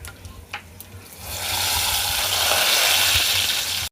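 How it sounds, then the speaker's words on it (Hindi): Garlic and white cumin browning in a pot give a steady, loud sizzle that swells in after a second of quieter clatter and holds broad and even to the end. "यहाँ पे लहसुन और सफ़ेद ज़ीरा ब्राउन हो चुका है"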